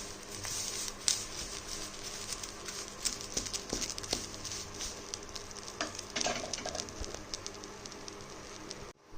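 Peel fry sizzles steadily in a hot wok with the gas just switched off, crackling with irregular pops and stirring scrapes, close and continuous, with no voices.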